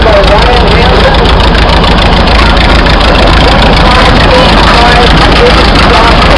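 A 1925 25-85 Big Four cross-motor tractor runs at an outdoor harvest reunion show as a loud, constant low engine drone that fills the clip without letup.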